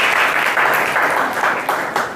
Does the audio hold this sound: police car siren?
no